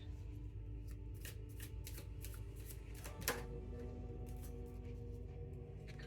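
A deck of cards is shuffled up close in a continuous run of quick riffling taps, with one sharper snap partway through, all over a steady low hum.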